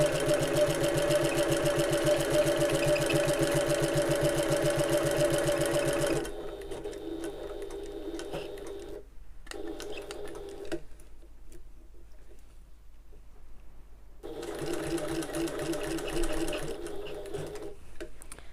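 A sewing machine stitches a seam around the outside of a fabric bag, running steadily and loudly for several seconds, then stopping and restarting in shorter runs at a lower level with quiet gaps between.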